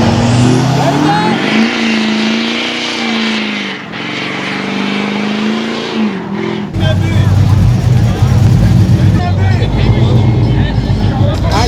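A car doing a burnout at a crowded car meet, with a loud sustained engine roar that rises in pitch, then a harsher, broader tire-spinning roar; people talk and shout over it.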